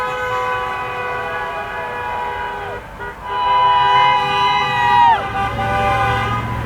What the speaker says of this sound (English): So, are you the reason everybody's honking?